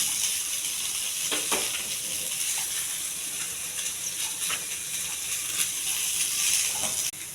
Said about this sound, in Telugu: ఇవి కొంచెం బాగా వేగించాలండి.